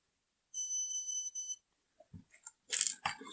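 A multimeter in continuity mode gives a clear, steady high-pitched beep lasting about a second, followed by soft clicks and crunchy handling noises of the probes.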